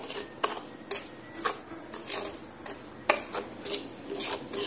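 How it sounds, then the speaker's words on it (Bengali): A utility scrapes and clinks against a hot pan while semolina is stirred and roasted, making quick, fairly regular metallic taps and light scraping, close by and fairly soft. "সুজিগুলো ঢেলে দিয়ে সুন্দর করে একদম নেড়ে চেড়ে লালচে রং ধরিয়ে ভেজে নিতে হবে।"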